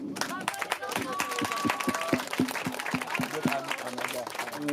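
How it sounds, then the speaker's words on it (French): An audience applauds two classes of children, with scattered clapping over a rhythmic thumping like feet, plus voices and some tonal sounds mixed in at moderate level. "On peut applaudir les enfants."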